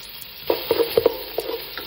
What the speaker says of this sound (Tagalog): Pagkatapos lagyan na natin itong sibuya.